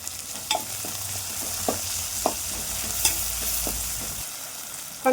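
Onion, green chili, curry leaves and ginger garlic paste sizzle steadily in hot oil in a pan for rasam, with occasional scrapes and taps of a stirring spoon.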